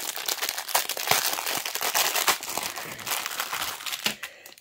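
Crinkly plastic packaging of a cross-stitch supply kit being opened, giving dense continuous crackling and rustling with a few sharper crinkles, close and fairly loud with no talking.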